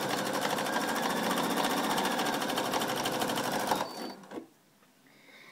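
A PFAFF sewing machine stitching a quilt with shiny embroidery thread runs in a fast, steady, close mechanical rattle for about four seconds, then stops abruptly, leaving faint quiet handling sounds.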